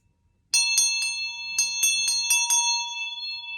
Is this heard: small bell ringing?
yes